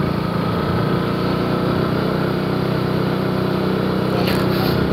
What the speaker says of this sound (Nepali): BMW गाडी आयो है BMW गाडी